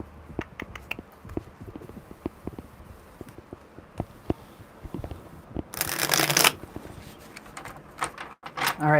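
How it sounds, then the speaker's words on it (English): Tarot cards are shuffled in a quiet room, a burst of rapid riffling flutter close to the microphone after scattered soft handling taps, with a second brief riffle at the end and a voice speaking lightly around it. "One more good shuffle."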